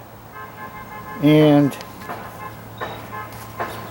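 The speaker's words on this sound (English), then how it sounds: "if you hear the honking, it's the school buses driving around giving away free food" A school bus horn blares once, loud and about half a second long, as buses drive around giving away free food on election day, with a voice talking over the outdoor background.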